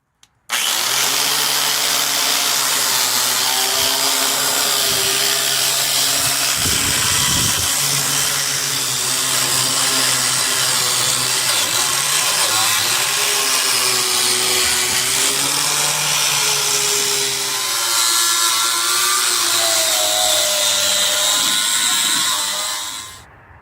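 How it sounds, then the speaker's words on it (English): A power tool wire-wheels and sands a 1956 Studebaker Hawk frame, a loud sustained whir and grind running steadily for over twenty seconds with shifting pitch, alone. "Next up is wire wheeling, sanding, rust convertering, priming as needed"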